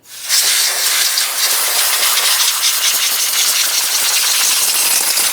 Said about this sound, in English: Use some compressed air to clean any debris from along the top and front of your engine.